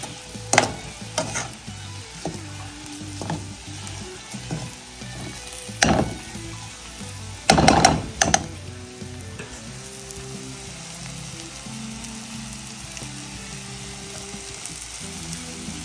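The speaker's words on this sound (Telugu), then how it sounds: "ఇప్పుడు నేను చేస్తుంది ప్రాన్స్ ఫ్రై." Prawns frying in masala over a medium flame, a soft steady sizzle with intermittent scraping and stirring clatters from the pan, including a louder burst of rattling stirs near the middle, no voices.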